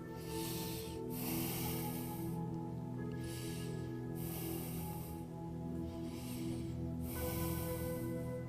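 Deep, slow breaths during a beginner yoga session, each inhale and exhale a soft breathy rush recurring about every two seconds over a steady background music drone.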